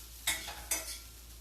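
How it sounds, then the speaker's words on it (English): Two quick scraping clinks of a utensil against a pan while meat sautes, close and fairly quiet over a steady low background hum. "I am just sauteing my meat."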